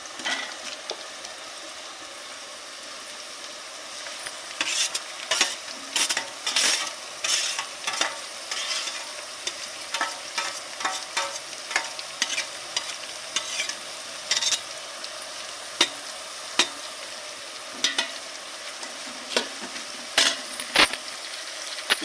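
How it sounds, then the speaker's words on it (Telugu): Onions that have softened in a pan now fry with carrot, tomato, mint and coriander for a chicken curry and pulao meal. A constant close sizzle runs under repeated sharp scrapes and clatters of stirring, with no voices. "ఇప్పుడైతే క్యారెట్ టమాటా పుదీనా కొత్తిమీర వేసుకుందాం ఫ్రెండ్స్"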